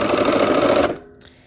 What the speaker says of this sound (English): we're going to just start sewing.